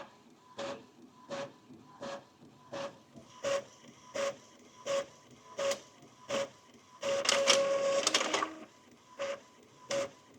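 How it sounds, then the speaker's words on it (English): Epson EcoTank printer printing a page, a steady series of rhythmic mechanical whirring strokes about every 0.7 seconds with a longer feed burst midway, close and moderately quiet. "To print on both sides of the page using your Epson Eco Tank."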